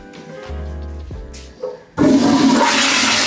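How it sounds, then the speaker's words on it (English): A hotel toilet at Disney's Aulani resort in Hawaii fills and hisses briefly, then gives a loud, close, forceful rushing flush that roars on steadily to the end, with no talking. "That's a solid flush."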